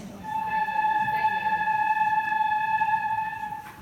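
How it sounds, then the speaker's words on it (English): A flute head joint played on its own produces one sustained, clear whistling tone that holds steadily for a few seconds, fairly soft and close, with no speech. "the flutes can make two sounds on just their head joints."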